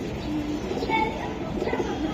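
Soft cooing from a pair of silver Giribaz pigeons, close by and continuous over a short stretch, with a few brief higher chirps mixed in against a busy background.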